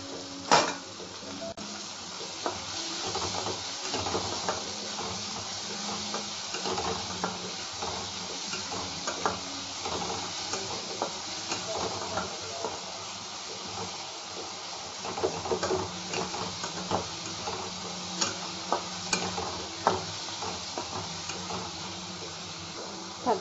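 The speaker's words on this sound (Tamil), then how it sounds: "இப்போ தக்காளி போட்டுக்கலாம். தக்காளி நல்லா வதங்கணும்." Tomatoes sauté in a pan for a prawn gravy, with a continuous close sizzle and hiss and frequent small clicks and scrapes of stirring throughout.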